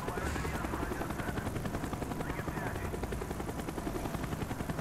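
A helicopter in the video game Call of Duty Black Ops gives a continuous rapid rotor thump, loud and steady throughout, alone with no voices.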